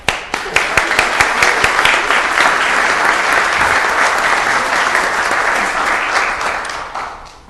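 Loud, sustained applause from a crowd at a city council meeting, starting with a few sharp claps and building into dense clapping that holds steady for several seconds before tapering off.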